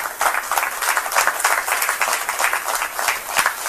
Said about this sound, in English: Big round of applause for these 3 women.